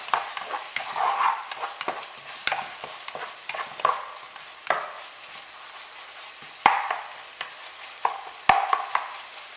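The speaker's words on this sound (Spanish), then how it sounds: "Ya una vez le hayamos echado esto, entonces volvemos a mezclar. Sigue esto a fuego mediano alto" Yellow rice with broccoli is stirred in a pan over medium-high heat, a spoon scraping and tapping the pan in uneven strokes with sharp knocks over a faint sizzle, close up and with no talking.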